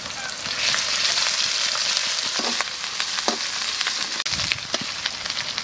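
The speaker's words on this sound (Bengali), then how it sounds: "ফোড়ানোর জন্যে তেজপাতা আর জিরে দিচ্ছি, পেঁয়াজ দিচ্ছি, আদা রসুন বাটা দিয়েছি" Bay leaf, cumin and onion sizzle and crackle in hot oil, the base for a pumpkin and snakehead fish curry, frying steadily and close, with occasional stirring scrapes.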